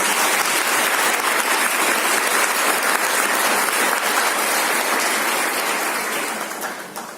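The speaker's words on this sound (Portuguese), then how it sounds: "Então vamos aplaudir esse ano nacional do laicato." Audience applause after a talk at a Catholic lay gathering, a steady dense clapping from a large crowd that holds for about six seconds and then begins to fade, with no voices over it.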